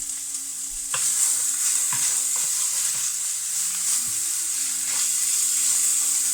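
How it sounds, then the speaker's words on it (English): Bacon sizzles loudly in a pan with a little oil, a dense continuous hiss close by, broken by occasional scrapes and taps of a utensil stirring it around. "And now we're going to put in the bacon"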